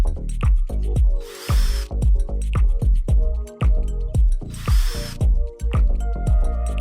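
Power driver running screws into mounting brackets for an outside-mount roller shade valance, with short repeated bursts of whirring and ratcheting clicks, close and loud, broken by brief pauses between screws.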